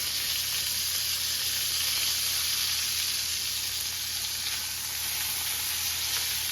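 Pork chops sizzle steadily in a hot pan as they are flipped, a loud, even crackling hiss that holds without a break throughout, with no talking.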